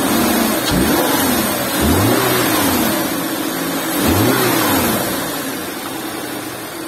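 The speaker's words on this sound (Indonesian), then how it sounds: "kita coba dengar suara mesin boxernya" A Subaru XV boxer engine starts and revs in several short swells over a steady, close idle.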